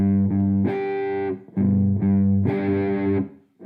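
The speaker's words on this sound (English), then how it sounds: "Now I have the distortion on and the volume cranked up" An electric guitar with distortion on and the volume cranked up plays loud, chunky chords in two short repeated phrases, each chord ringing sustained with brief breaks between, for a tutorial on a song.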